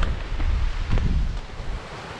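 Strong gusting wind on the exposed Cuillin ridge on Skye, roaring and buffeting the microphone in uneven surges.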